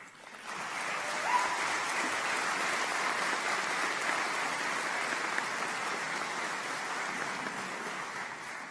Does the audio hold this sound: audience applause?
yes